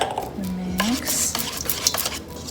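A whisk works through keto crepe batter in a bowl, with close, steady scraping and quick light clinks against the sides. Brief rising squeaks come through near the start.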